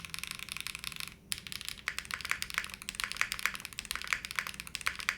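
Fast typing on a Zoom65 V3 mechanical keyboard, dense crisp clacks in quick bursts with a brief pause near the start, close and clear with no talking.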